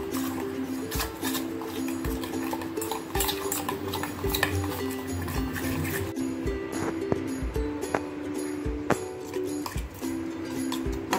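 Paneer tikka marinade with gram flour and salt is stirred in a bowl with a spoon, giving continuous scraping, clinking and squelching under faint background sounds.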